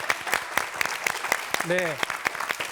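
A studio audience claps in a steady, rhythmic beat on a Korean morning TV talk show, crisp close hand claps repeating about every quarter second, with a voice briefly speaking over them.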